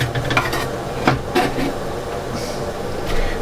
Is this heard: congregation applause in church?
no